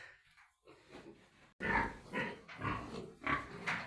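A pig grunts repeatedly up close, a series of rough, irregular snorts and oinks after a quiet start.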